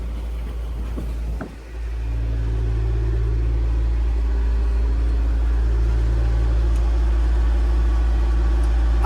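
The inboard engine of a Colvic Watson boat catches after a brief stumble, then settles into a loud, steady low drone that holds to the end.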